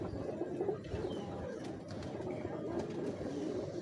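Ferozpuri pigeons coo softly and continuously at close range, low murmuring calls layered over a busy background with faint room noise.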